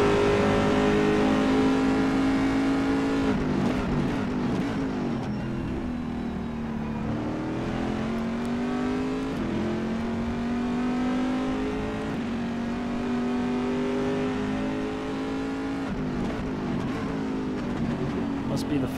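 URD C7.R race car engine lapping Sebring in the rFactor 2 racing game, a loud continuous harmonic drone rising and falling with acceleration and gear changes throughout, with talk over it.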